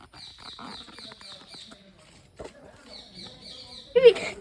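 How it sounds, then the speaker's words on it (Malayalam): A bird gives rapid, repeated chattering calls in two bursts, fairly close, with faint rustling and a short sharp squawk at the end. "ഇത് ഒരു കരിയിലെ കുരുവിയാണ് ഗായ്സ്"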